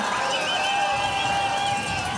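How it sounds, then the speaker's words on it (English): A crowd cheers steadily at the finals of the canoe slalom World Championships, a sustained, fairly loud mass of voices with whistles and shouts and no pause. "Yeah, finals, everyone's always cheering."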